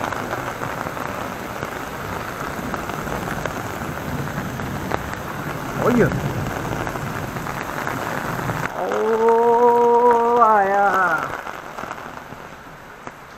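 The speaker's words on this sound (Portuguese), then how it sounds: "ainda chovendo daquele jeito aqui, ó." Heavy rain pours down steadily in a continuous loud hiss, with brief spoken words and a voice partway through and a sweeping tonal sound near the end.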